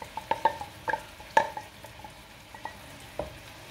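Yogurt is stirred into ground masala paste for a fish gravy, soft sizzling with scattered clinks and scrapes of a spoon against the pan, quiet and close with no talking.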